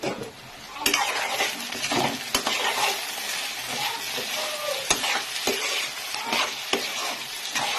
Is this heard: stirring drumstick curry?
yes